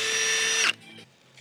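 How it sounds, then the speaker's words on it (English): A power drill boring down through a wooden garage sill plate for anchor bolts whines loudly at steady pitch for under a second, then winds down and stops, leaving quiet rustling. "take just another drill bit and go down through here to make a hole on the bottom side"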